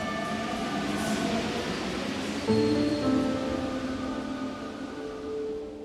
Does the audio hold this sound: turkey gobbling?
no